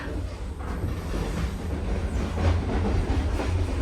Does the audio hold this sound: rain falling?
no